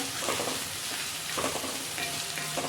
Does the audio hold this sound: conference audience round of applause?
no